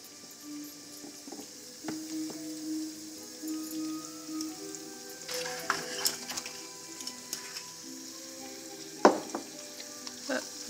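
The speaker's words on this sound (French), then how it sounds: "Et là, on laisse revenir avec dans du beurre." Eggs fry in butter in a pan with cumin and paprika, a soft continuous sizzle joined by scattered clinks and stirring taps at close range, with no talking.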